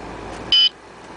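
A Beltronics RX65e radar detector in a moving car gives one short, loud electronic beep over steady road noise, alerting to a speed camera about 100 metres behind.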